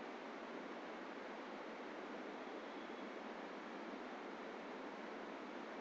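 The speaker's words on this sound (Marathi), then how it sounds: "शेजारी वाहणारी नदी" A river flows beside a roadside spot near Drass on the Zojila route, giving off a steady, even rush of broadband water noise that holds unchanged from start to finish with no voices.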